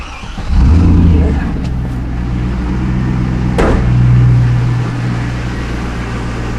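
A 2000 Pontiac Trans Am engine with a P0171 lean fault cranks and catches, then settles into a steady low idle hum with a brief rev; faint clicks sound in the background.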